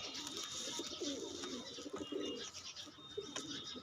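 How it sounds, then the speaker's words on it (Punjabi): A chocolate-coloured female pigeon gives soft, repeated throaty coos, faint and nearby against a quiet background with a few light chirps. "ਇਹ ਮਦੀਨ ਆ ਬਾਈ ਚੋਕਲੇਟੀ ਮਦੀਨ ਆ"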